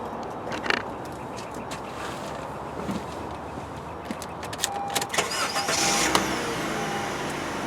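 The engine of a 2012 Honda Civic EX starts up and settles into a steady idle, heard from inside the car amid clicks and small handling noises.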